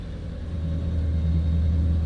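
A light aircraft piston engine runs just after start-up, giving a steady, close, loud low rumble with a slight rise in intensity, and no voices over it.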